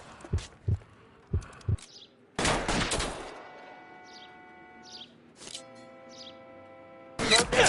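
Bursts of gunfire during covering fire in the video game L.A. Noire, several sharp shots and rapid volleys separated by gaps, with voices and game sounds between them.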